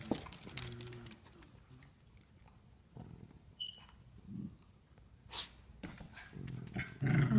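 Dogs playing around a Christmas tree indoors, with intermittent low growls, snuffling and scuffling, fairly quiet and close, with a brief high squeak partway through.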